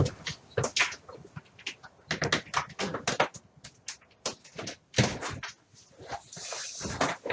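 A door blows open and bangs indoors during a live home broadcast, giving a series of sharp knocks and rattles scattered through a few seconds, fairly close and moderately loud, with no talk over them.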